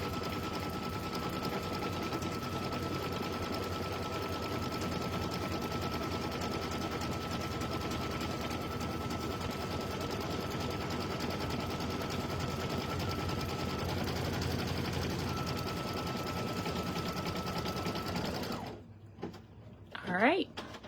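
A sewing machine stitches fabric for stuffed toys in a steady, close, continuous whir for most of the stretch, then stops, leaving a few faint clicks and handling sounds.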